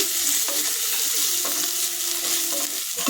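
Garam masala and chicken masala spices frying in a pan for a jackfruit seed veg chicken curry, a loud dense sizzle with a few stirring scrapes, close, no talking.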